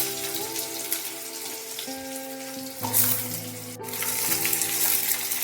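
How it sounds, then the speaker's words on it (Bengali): Potato pieces frying in hot oil with tempering spices, a continuous soft sizzle with faint stirring, while steady tonal background music plays over it. "ফোড়ন একটু ভাজা ভাজা হয়ে গেলে আলুগুলো দিয়ে দিতে হবে।"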